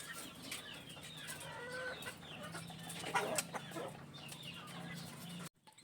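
Several cockerels clucking and murmuring close by in a steady chorus under a hut during rain, with a brief louder burst of clucks partway through before a sudden cut.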